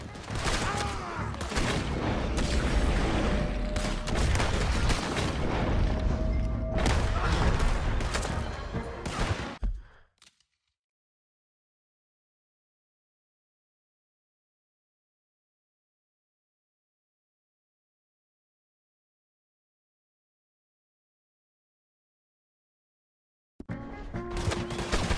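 Shootout gunfire in Red Dead Redemption, with rapid overlapping shots and bursts loud and close for about ten seconds, then total silence until the sound returns briefly at the end.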